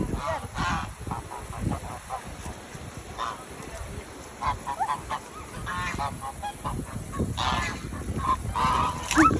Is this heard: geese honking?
yes